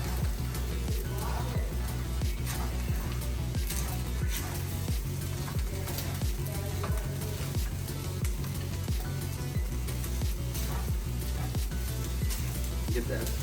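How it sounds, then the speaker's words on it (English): Chicken fried rice sizzles steadily in a hot pan while being stirred, with a continuous frying hiss and rhythmic scraping strokes throughout, and a voice talking over it at times. "just start stirring it and mixing it with your rice"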